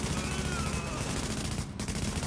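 Sustained automatic gunfire in the third-person shooter Tom Clancy's The Division during a co-op firefight at a power plant, loud rapid continuous shots with a brief dip before resuming.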